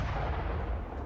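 A heavy blast rips through a Russian tank carrying soldiers on top, heard in news footage as a dense, low, rumbling boom with sustained roar filling the whole short moment.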